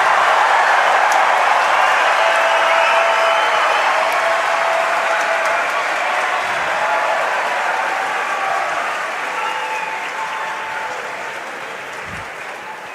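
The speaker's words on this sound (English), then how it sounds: "Incredible roars from the crowd there for both Neo Juarez of the Philippines and Teodor Zajder of Poland" Large arena crowd at a Rubik's cube 3x3 speedcubing world championship final, applauding and roaring continuously for the finalists from Poland and the Philippines; a dense, sustained wash of clapping and cheering that fades slightly toward the end.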